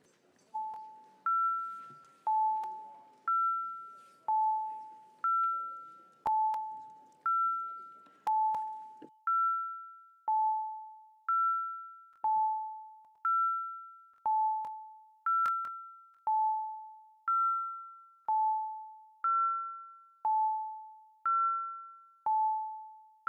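Council chamber voting bells: a two-tone electronic chime repeats steadily in a high-low pattern, about once a second, clear and alone against silence.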